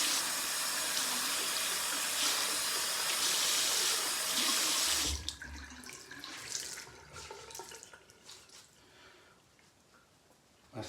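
Tap water runs steadily into a bathroom sink as someone washes their face, a loud continuous splash for about five seconds that then cuts off into quieter drips and handling noises.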